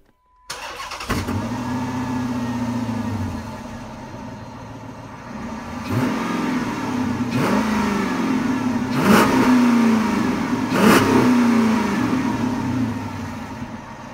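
A Chrysler 300C with a 5.7 litre Hemi V8 starts and settles into a deep idle, then revs hard four times in a row, loud and close.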